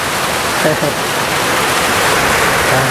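Steady, dense rain falls outdoors, a continuous close hiss with no break, and a faint voice briefly surfaces beneath it.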